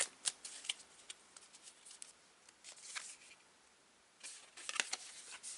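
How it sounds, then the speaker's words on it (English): A deck of oracle cards is split and shuffled by hand, giving soft riffling flutters and papery slaps in several bursts, close and fairly quiet with no voice. "Just was told to split the deck once more before I continue with the oracle cards."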